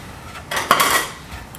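Friselle dough set down onto a very large pan, giving a brief metallic clatter with a short ringing clang, close and alone without talk.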